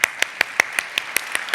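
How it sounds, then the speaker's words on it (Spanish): At a Father's Day church gathering, quiet hand clapping keeps a steady, evenly spaced beat of about five claps per second, with no voices over it. "Bueno, les aplaudimos de una vez."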